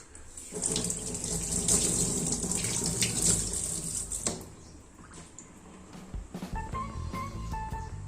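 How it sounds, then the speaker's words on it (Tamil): Water running steadily from a kitchen tap while goat spleen (suvaroti) is washed, a loud splashing stream for about four seconds, then softer intermittent trickles and handling sounds. "இப்போ நம்ம தண்ணியில் கழுகிட்டு எப்படி செய்யறதுன்னு பார்க்கலாம்"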